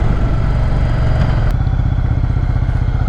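Yamaha Virago 750 motorcycle engine running steadily and loud throughout, a continuous low rumble with mechanical clatter, as the rider slows and pulls over at the roadside.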